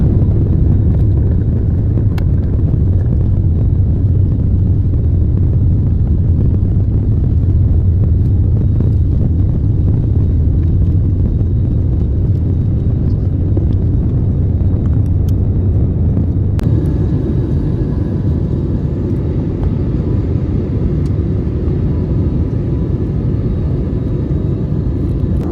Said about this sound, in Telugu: అండ్ ఫ్లైట్ ఇప్పుడే స్టార్ట్ అయింది మూవ్ అవ్వడం.